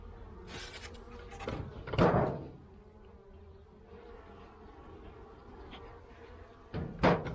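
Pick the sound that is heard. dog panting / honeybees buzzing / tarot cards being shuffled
honeybees buzzing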